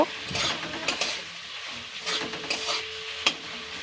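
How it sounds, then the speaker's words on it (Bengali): Chopped onions frying with cumin and dried chillies in a pan for a Bengali lote fish dish, a steady soft sizzle broken by several scraping stirs of a spatula, close and with no talking. "পেঁয়াজটা আমি লাইট ব্রাউন করে ফ্রাই করব।"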